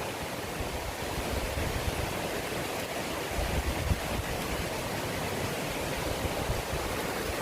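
Wild Cane River on Ross Isle in St Thomas, running low, makes a steady broadband rush of flowing water, continuous and fairly close for the whole stretch with no voices.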